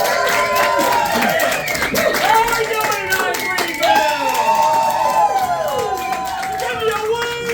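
Audience clapping and cheering at a live stage event in Greenville, a dense crowd sound with whoops, running steadily under a loud host voice that speaks over it throughout.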